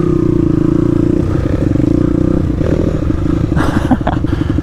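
A YCF pit bike engine runs just after being kickstarted, close and loud, with a rapid, uneven putter that steadies, then rattles and revs slightly near the end. No voices are heard.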